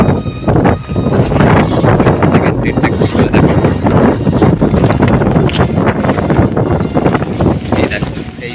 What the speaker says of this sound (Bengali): প্রচণ্ড হাওয়া এখানে